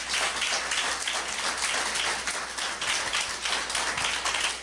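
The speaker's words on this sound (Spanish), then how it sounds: "Aplaudan al Señor, aleluya." A church congregation claps and applauds in a dense, continuous burst, loud and close, with no break.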